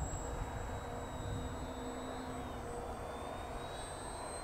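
A small FMS FairRC Blue Jay beginner RC airplane flying at about half throttle, its electric motor giving a steady thin whine from a distance, with faint outdoor noise and no talk.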